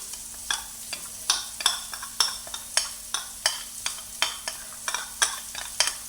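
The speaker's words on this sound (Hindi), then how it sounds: "इसका फिर हम चम्मच हिलाते जाएंगे ताकि जो मसाला है वो इसमें अच्छे से मिक्स हो जाए" A spoon stirring mutton nihari masala mixed with yogurt in a pot, regular scraping strokes roughly twice a second over a faint background sizzle and low hum, close and clear, no talk.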